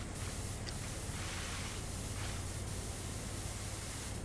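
Pressure washer in the PowerWash Simulator game, a constant broadband hissing spray that runs steady and close throughout, with a few brief nozzle shifts and no talk.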